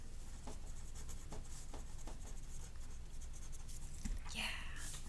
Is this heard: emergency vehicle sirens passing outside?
no